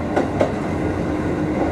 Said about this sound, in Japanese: あれは高松行きの電車。